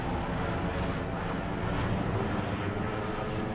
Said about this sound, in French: En fait, c'est un hélico qui passe au-dessus.